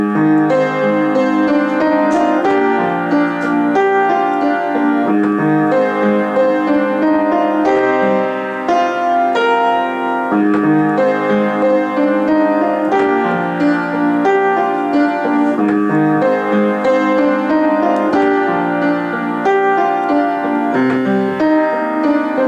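Piano plays the chorus of a song with both hands, steady chords and melody continuing loud and close without pause, no talking.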